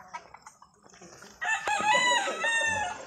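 A gamefowl stag clucks softly, then breaks into a loud, close crow that carries to the end, with faint voices in the background.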